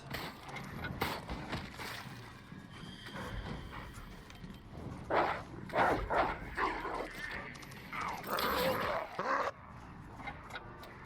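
Dogs in a video game bark, yip and whimper in bursts over mechanical game noise, loudest in clustered yelps near the middle and end, with no clear talking.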